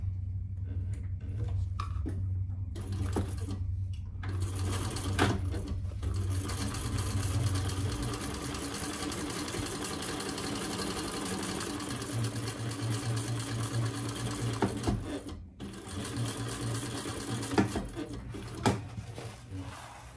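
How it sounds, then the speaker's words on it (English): A sewing machine topstitches one side of a commuter bag, running in a long continuous close whir with brief pauses and a few clicks of handling, no voices. "now we're going to top stitch one side"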